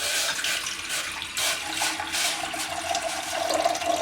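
Water pours steadily into a bowl in a home kitchen, a continuous close splashing rush with no pauses.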